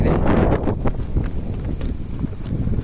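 Steady wind buffets the microphone beside a highway in Cunha Porã, a loud continuous rumbling roar with gusty swells throughout and no clear talk.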